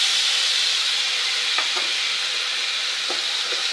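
Ginger garlic paste spitting and frying in a small amount of hot oil while cooking a brinjal kulambu, a steady close broadband sizzle with a few crackling pops and no talk.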